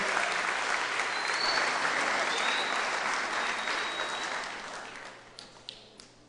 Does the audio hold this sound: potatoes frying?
no